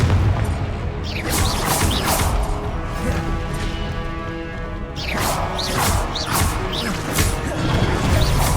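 Confringo fire spell explosions in Hogwarts Legacy, a loud string of crashing, booming blasts in two dense clusters with crackling debris between them, layered over steady game music.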